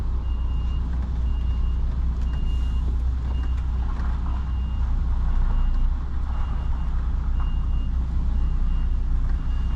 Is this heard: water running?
no